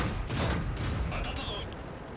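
Booming cannon fire rumbles through a World of Tanks battle involving a Type 3 Chi-Nu Kai and a T-14, dense low blasts overlapping under a speaking voice.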